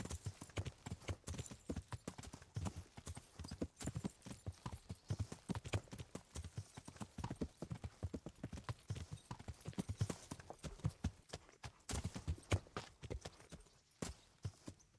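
Hooves of a horse clip-clop steadily in the medieval game Kingdom Come: Deliverance, a quick repeated rhythm of sharp close strikes at low volume, continuing across the whole stretch with a brief pause near the end.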